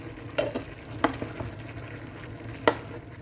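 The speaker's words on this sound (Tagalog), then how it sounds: "ating haluin ang ating kamatis" Tomatoes cooking in a pan are stirred, giving a soft continuous sizzle with a few sharp scraping and tapping strokes of the utensil spaced unevenly across the moment.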